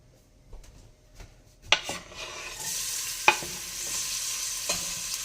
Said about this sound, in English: All we do now is throw the onions in.